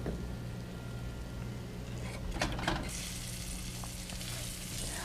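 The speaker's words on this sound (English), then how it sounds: "So we're just gonna brown these a few at the time" Floured venison pieces browning in a hot pan for a stew, a steady close sizzle with a low hum beneath and a brief scrape or stir near the middle, no voices.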